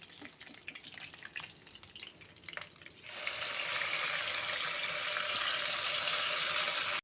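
Paste of onion, garlic, green chili and ginger hits hot oil and starts frying, a sudden loud broadband sizzle that holds steady after a few seconds of quieter kitchen clatter.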